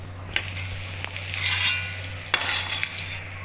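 Vegetarian mutton pieces frying in hot oil, a steady close sizzle with occasional stirring clinks and pops, and a low hum underneath throughout.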